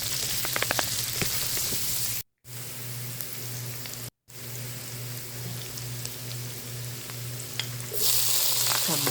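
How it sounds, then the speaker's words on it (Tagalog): Garlic, chili and onion sizzle steadily in a hot pan for a Filipino sautéed fermented mustard greens dish with tofu and egg, a continuous close frying hiss with a low hum beneath and two brief cuts to silence. "mag-isa po tayo ng bawang. Isama na ang sili. Isunod ang sibuyas."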